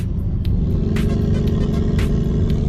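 A BMW 5 Series engine gives a close, steady low rumble as the pedal is pressed lightly, with a few brief mechanical clicks on top and no talking.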